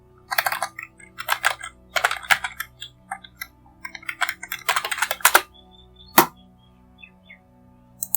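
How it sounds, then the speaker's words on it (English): Typing on a computer keyboard: bursts of quick, crisp key clicks in uneven runs, close and clear against a quiet background, with short pauses and a few single isolated taps near the end. "let me open the browser and type the localhost"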